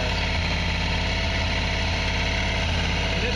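Motorcycle engine idling steadily while its carburetors are synced, a continuous close, rumbling drone with even pulsing and no pauses.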